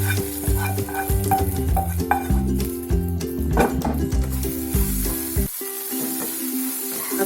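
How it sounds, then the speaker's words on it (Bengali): Red amaranth greens stirred and fried in a wok, giving a loud close sizzle with rhythmic scraping and clinking stirring strokes that stop abruptly near the end, leaving a softer hiss. "আস্তে আস্তে শাকটাকে আমি নেড়ে দিচ্ছি"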